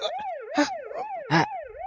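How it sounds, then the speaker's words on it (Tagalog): A police car siren wails close and loud in a steady rising-and-falling cycle, with a couple of sharp bursts of noise cutting across it. "sirina ti lugan dagiti pulays"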